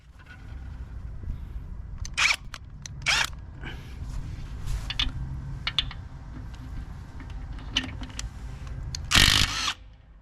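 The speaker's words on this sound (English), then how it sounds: "This should be pretty easy for this impact wrench." A Hyper Tough 12V 3/8-inch brushless impact wrench loosens a car lug nut in several short, loud mechanical bursts, with the longest and strongest near the end and quieter clatter between them.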